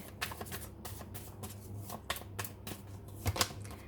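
Tarot cards are shuffled and drawn by hand, producing a quiet series of close, crisp riffling flicks and soft taps at an irregular rhythm.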